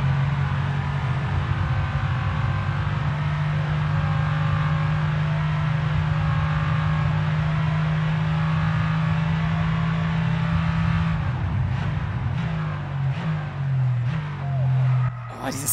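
AMG car engine in the F1 22 racing game on a hotlap around Miami, a loud sustained steady engine drone with brief gear-change shifts near the end.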